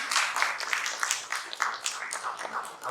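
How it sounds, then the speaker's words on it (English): An audience applauding at a business conference as a speaker is welcomed, a dense, even wash of many hands clapping for a few seconds. "Can we welcome Harjyot with a big round of applause, please?"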